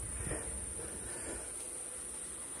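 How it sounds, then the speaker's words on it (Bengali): Crickets in the garden of the Ramakrishna Math temple at Bamunmura give a steady, unbroken high-pitched chirring drone over a faint low outdoor rumble, with no voices. "ঝিঝি পোকার ডাক, পাখিদের আওয়াজ,"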